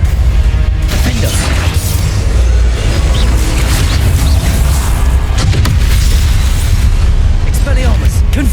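Spell blasts from Hogwarts Legacy, including Confringo and other combat spells, boom in a loud, dense barrage of explosions and crackling bursts that runs through the whole stretch without letup.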